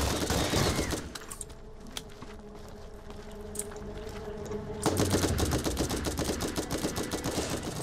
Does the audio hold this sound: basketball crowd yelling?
no